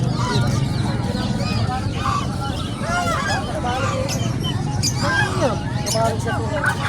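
Ducks and other fowl honk and call at a busy Pangasinan livestock market in San Carlos, with repeated nasal quacks over a loud, continuous crowd din and voices talking nearby.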